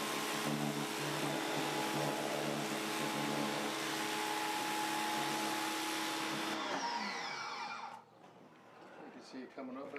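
A Greenworks 1800 PSI electric pressure washer fitted with a turbo nozzle cleans a deck, giving a steady close motorized whine and spray hiss that winds down near the end as a voice talks.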